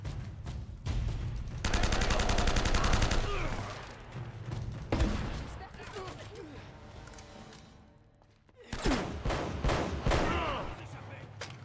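Desert Eagle gunshots in Uncharted: Drake's Fortune Remastered come as two loud clusters of sharp reports separated by quieter game ambience, with some background voice.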